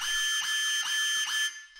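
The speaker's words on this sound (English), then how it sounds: "they sent off this fucking fire alarm" A fire alarm goes off in the video game Unheard, a loud, close electronic tone that pulses in a steady repeating pattern for several cycles before cutting out.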